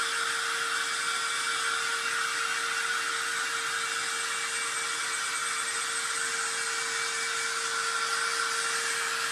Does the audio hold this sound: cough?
no